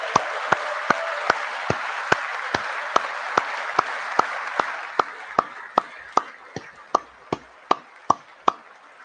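Slow, steady hand clapping during a State of the Union address, about twenty sharp, evenly spaced claps over a broad crowd-like wash that thins out halfway through, leaving the last claps loud and isolated.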